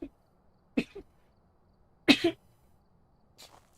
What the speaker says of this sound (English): And I need to sneeze, which is really bad, because I'm trying to be quiet.